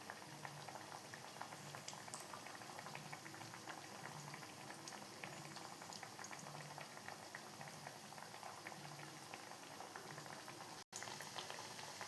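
Sweet potato vadas deep-frying in coconut oil in a cheenachatti produce a steady, dense sizzle and bubbling that runs without a break, close and even, with no voices.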